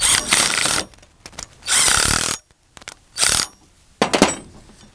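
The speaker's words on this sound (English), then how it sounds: "All right, I'm gonna ratchet this one down." A hand ratchet cranks down a brace supporting a tree in several loud, close bursts of rapid clicking, separated by short pauses.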